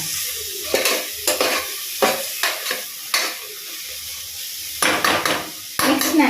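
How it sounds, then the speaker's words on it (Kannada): Ingredients for a chicken curry frying in a pan on a low flame make a soft hiss, punctuated by several close bursts of spatula scraping and stirring against the pan, with no talking. "ಲೋ ಫ್ಲೇಮ್ನಲ್ಲೇ ಚೆನ್ನಾಗಿ ಫ್ರೈ ಮಾಡ್ಕೊಳ್ಳೋಣ"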